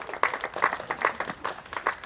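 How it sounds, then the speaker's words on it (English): A small group claps in a round of applause at a virtual charity duck race event, the claps coming in quick, steady bursts at moderate loudness. "Give them a round of applause."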